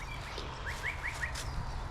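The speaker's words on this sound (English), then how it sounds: "That's the grey shrike thrush." Faint grey shrike-thrush calls in spring wetlands, a few short rising chirps in a quick row, heard at a distance over steady background noise.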